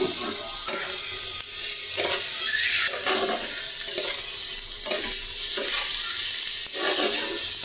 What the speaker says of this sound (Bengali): এটা একটু নেড়ে চেড়ে নিব,